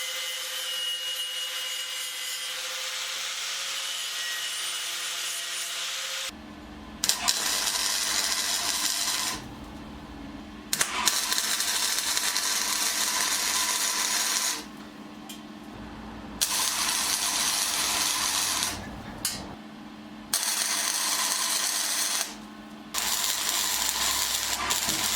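Welded exhaust pipe metal on a 1977 Sigma Lancer is cleaned with a power tool before welding. Loud, close bursts of harsh grinding and scraping start and stop several times, with short quiet gaps between them.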